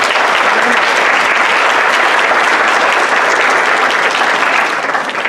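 A church congregation applauds during a pastor's sermon: loud, dense, sustained clapping from a large crowd that holds steady and eases slightly at the end.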